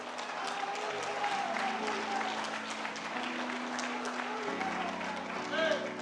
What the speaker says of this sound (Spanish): Denle un aplauso al Señor si quiere.